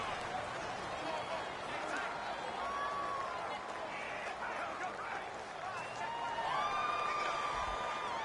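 Stadium crowd roar from the video game Madden NFL 19, with home fans at a Commanders vs Bengals game making noise against the offensive line. The din is steady and loud throughout, with some whistle-like tones rising over it and no clear voices.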